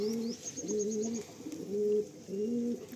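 A household's favourite pair of pigeons coos in steady, repeated low phrases, each rolling call falling into a short pause before the next, close and clear with no talk over it.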